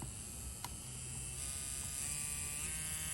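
A permanent makeup (PMU) machine runs with a quiet, steady electric buzz, close and continuous for about three seconds, with one brief click near the start and no talking.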